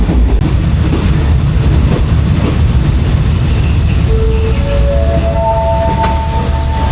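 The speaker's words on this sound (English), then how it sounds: "get off the train when we pull in the station" A train rumbles as it slows pulling into Surat Thani station, wheels squealing in rising high-pitched tones on the rails, loud and close, with no talking.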